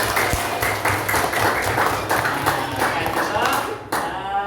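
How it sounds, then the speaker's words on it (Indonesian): A primary school class of children claps hands together in a classroom, a brisk run of many close, loud claps that ends abruptly near the finish. "tepuk tangan untuk kita semua"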